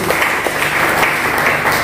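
Church congregation applauding during a sermon, a brief, steady wash of many hands clapping together at a moderate distance, with no voices on top.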